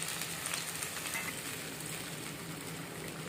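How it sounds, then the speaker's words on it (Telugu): Chopped tomatoes fry in a little oil in a pan for a tomato chutney, giving a faint, even, continuous sizzle with no talking. "ఇదే ప్యాన్లో కొంచెం ఆయిల్ వేసుకుందాం. కట్ చేసుకున్న టమాటాలు వేసుకోవాలి."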